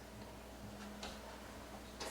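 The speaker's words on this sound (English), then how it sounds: "That ticking clock is gonna be just a little bit louder." A clock ticks faintly in a quiet room, soft regular ticks over a low hum, with a slightly stronger tick near the end.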